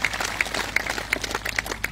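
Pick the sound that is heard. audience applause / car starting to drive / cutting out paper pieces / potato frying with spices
audience applause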